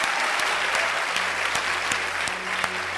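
Dense, even applause from an audience welcoming guests onto a stage, steady and close with occasional sharper claps standing out, and no break.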